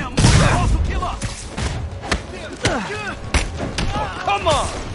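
Booming blasts and thuds from explosions in the Spider-Man PS4 video game hit repeatedly amid gunfire-like cracks, mixed with character voices talking over the action.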